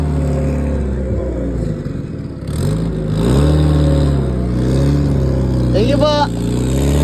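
A stock turbo car engine with a newly swapped fuel pump runs close by, humming steadily and then revving with rising pitch, while people talk over it.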